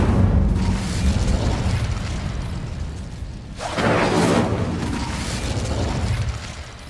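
In Hogwarts Legacy, the Incendio fire spell is cast with a rumbling whoosh and boom that swells into a burst of fiery noise midway, then keeps roaring under a steady low bed of game ambience.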